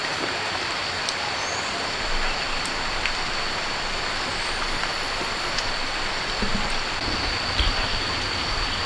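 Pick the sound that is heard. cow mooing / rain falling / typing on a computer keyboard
rain falling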